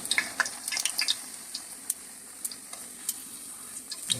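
Potato pakoras frying in hot oil, a constant crackling sizzle dotted with quick pops and light clicks, close and fairly quiet.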